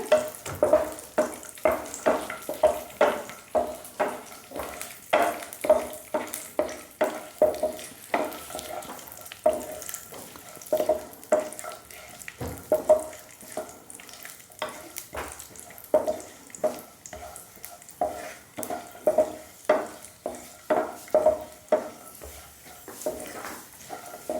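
Dry fruits for zarda pulao roasting in a pan over low flame, a continuous run of rhythmic scraping and clacking strokes from the spoon over a soft sizzle.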